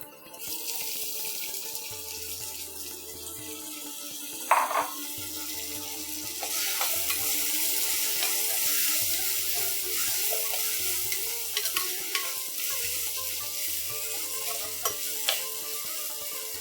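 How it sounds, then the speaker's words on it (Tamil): Turkey berries are tipped into onions frying in a pan for a tamarind kuzhambu, giving a steady sizzle with scraping stirs, a few sharp clatters and a low hum underneath. "இப்போ வந்து நம்ம கிளீன் பண்ணி வச்சிருக்க சுண்டக்காய் வந்து உள்ள சேர்த்திடலாம்."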